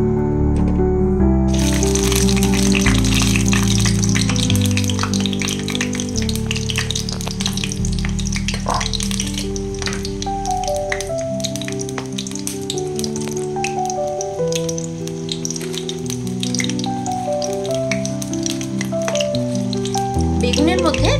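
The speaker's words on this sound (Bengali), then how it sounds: "তেল গরম হয়ে গেছে। এরপর আমি কেটে রাখা বেগুনগুলো দিয়ে দেব।" Cut eggplant pieces fry in hot oil in a pan, a steady loud sizzle running throughout over background music, with occasional stirring clinks.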